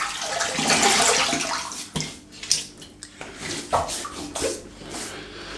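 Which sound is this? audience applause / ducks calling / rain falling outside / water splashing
water splashing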